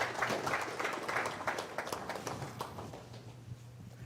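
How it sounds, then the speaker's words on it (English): An audience claps after a presentation, a dense, steady patter of applause from a room of people that slowly thins toward the end. "give a round of applause for Derek"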